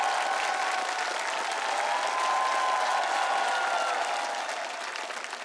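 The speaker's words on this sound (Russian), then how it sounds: "Ваши аплодисменты." Studio audience applause on a televised singing-competition final, a steady, dense wash of clapping that swells slightly in the middle and eases toward the end, with no speech over it.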